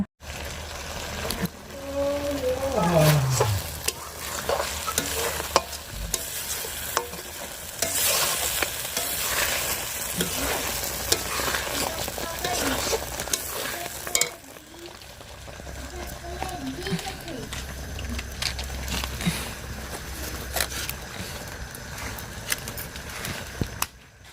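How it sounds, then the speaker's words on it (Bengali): Boiled potatoes frying in a karai with onion, garlic and dried fish, a busy sizzle with stirring scrapes running throughout at close range, steady and fairly loud. "তো আলুগুলো কিন্তু সেদ্ধ আলুই ছিল তারপরেও আমি একটু কষিয়ে নিলাম"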